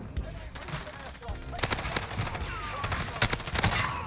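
Rapid automatic gunfire from a weapon in an online shooter video game, loud bursts of sharp repeated shots with a dense, busy game soundscape behind them.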